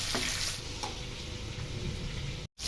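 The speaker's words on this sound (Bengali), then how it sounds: "একইভাবে বাকিগুলো ভেজে নেব।" Pabda fish fry in hot oil with a quiet, close, continuous sizzle and light crackle, ending with a brief dropout just before the finish.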